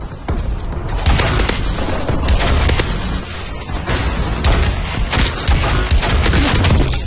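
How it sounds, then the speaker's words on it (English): Friendly bombing run in a video game, with loud rumbling explosions and booms layered with bursts of gunfire, dense and sustained throughout. "Friendly bombing run clearing the way."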